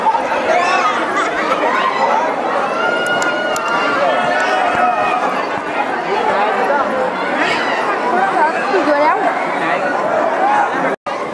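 A dense crowd of Hindu pilgrims at Shyam Kund, the sacred pond at Khatu Shyam temple, fills the air with overlapping close-up chatter and shouting voices, a continuous lively babble with footsteps mixed in.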